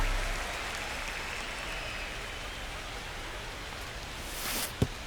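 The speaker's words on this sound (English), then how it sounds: "the field's not going to be able to hold up if the rain gets any worse than this" Steady rain falls on a baseball ballpark in MLB The Show 25, a continuous broadband hiss that holds throughout, ending with a brief louder swell and a sharp tap near the close.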